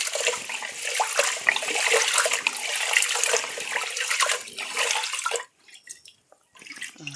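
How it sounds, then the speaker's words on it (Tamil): Ration rice washed by hand in water for idli batter, with steady sloshing and swirling close by. It stops abruptly near the end, leaving a few faint drips and trickles. "இதை எவ்வளோ நல்லா வாஷ் பண்ணுறீங்களோ அவ்வளோ அரிசி வெள்ளையாகும்"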